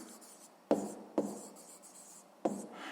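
Pen writing numbers on paper during a sixth-grade math exercise, faint close scratching broken by three sharp taps as the pen strikes the page, with no talk.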